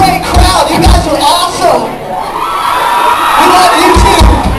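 A concert crowd cheers and whoops loudly for a band, with shouting voices and thumping hits over a continuous roar of cheering.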